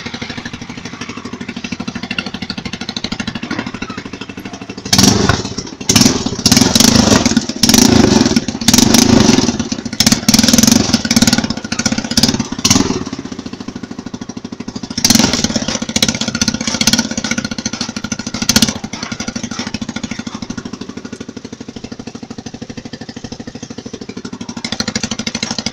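A homemade tractor with a hydraulic front loader cutting into dry soil gives a loud, steady engine drone, broken by rough rattling bursts of strain and clatter as the loader digs, then settles back to running.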